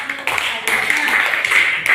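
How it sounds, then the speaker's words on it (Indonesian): Crowd applause, a steady wash of many hands clapping at once, fairly loud and sustained throughout with slight swells. "tepuk tangan buat"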